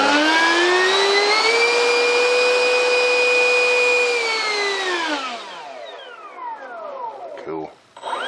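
A scratch-built foam board bat-wing RC jet's engine screams with a loud, steady, high tonal whine, then winds down smoothly in pitch and fades near the end.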